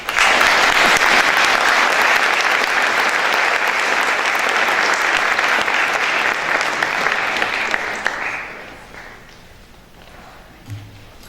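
Audience applause at a school alumni awards assembly honoring a Hall of Fame inductee: a full room clapping steadily and loudly for several seconds, then tapering off into scattered claps and quiet.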